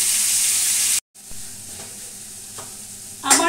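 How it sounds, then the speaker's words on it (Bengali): Pointed gourd pieces fry in a pan with a steady sizzle, which cuts off abruptly and returns as a quieter crackle, ending with a brief clatter of stirring. "পটলটা ভাজা হতে থাকে"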